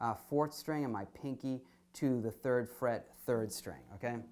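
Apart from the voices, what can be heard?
No everyday noises stand out.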